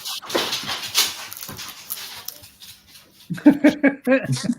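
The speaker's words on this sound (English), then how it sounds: "Dogs are coming." Dogs whimper and give a few short barks near the end, close by, after a stretch of indistinct talking and noise.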